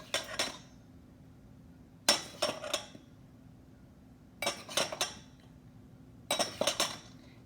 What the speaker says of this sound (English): Making sure to go over the cup amount and then leveling it off with a knife